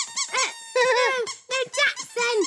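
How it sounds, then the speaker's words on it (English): A squeaky toy squeaks in a quick run of bright, repeated squeals, close and loud, with short gaps between bursts and no talking. "I think I like the squeaky thing better."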